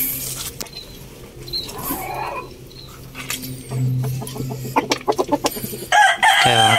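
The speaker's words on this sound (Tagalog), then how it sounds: "I-flex ko na rin sa inyo dito yung manok namin na may lahing labuyo" A part-labuyo backyard chicken clucks nearby in short, uneven bursts, with a quicker run of clucks toward the end over a faint outdoor background.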